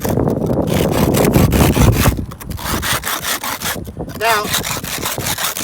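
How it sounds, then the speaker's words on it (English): A metal can is scraped hard against a rough surface to open it without a can opener, making loud, close, rhythmic rasping strokes, briefly broken by a pause and one short spoken word. "And you start scratching the surface."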